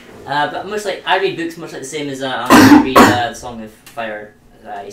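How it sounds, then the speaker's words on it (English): A single cough bursts out mid-conversation, loud and close, breaking into a person's steady talk and lasting about half a second before the speech resumes. "That was a cough."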